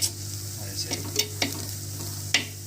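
Food with rice is stirred in a hot pan for a Palakkad-style okra and fish dish, with a spoon scraping at irregular intervals over a steady, close sizzle.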